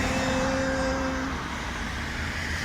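Cars pass on a highway by a lagoon, a steady broadband traffic roar with a brief tonal whine early on, continuous and fairly close throughout.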